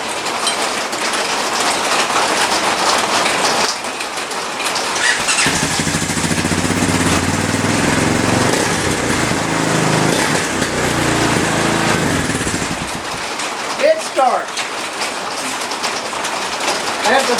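A small, worn-out Volkswagen engine runs steadily and loudly, its motor throbbing through a rough, continuous drone, with a brief change in pitch near the end.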